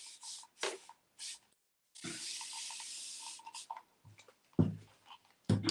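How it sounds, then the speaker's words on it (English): Water sprayed from a hand bottle onto a pot painted with a concrete effect, several short close bursts of hissing mist, one lasting longer, with faint rubbing and light knocks in the pauses. "And now spray with water."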